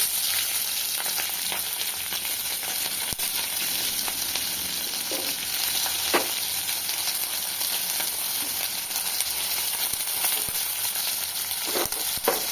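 Kalonji seeds and onions frying in hot oil give a steady, close, bright sizzle that runs for the whole stretch, with a few soft clicks and stirs and no talking.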